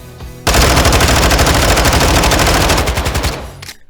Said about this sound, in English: Both guns have 30 round mags, so I dumped them into a wall for firing.